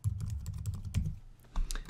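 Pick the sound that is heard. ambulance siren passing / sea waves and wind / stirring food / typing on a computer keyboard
typing on a computer keyboard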